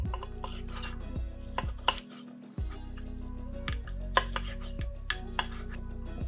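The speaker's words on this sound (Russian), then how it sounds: "Остывшие ребрышки нарезаем на порционные куски." A knife cuts cooled cooked ribs into portions on a board, with repeated sharp chopping knocks and clacks spaced irregularly, close and fairly loud over a steady musical background.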